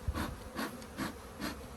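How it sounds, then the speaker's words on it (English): Honey bees buzz steadily around an open hive during an inspection, a soft continuous drone that swells in regular pulses, close and fairly quiet with no talking. "We're going to smoke these bees,"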